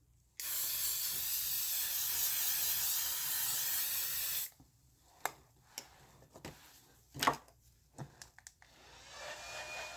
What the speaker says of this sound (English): I'm going back with the L'Oreal, and I'm going to spray my entire face.